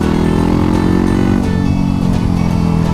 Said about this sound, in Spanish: la WR es una de las pocas maravillas que hay con el motor inmortal que tiene esta moto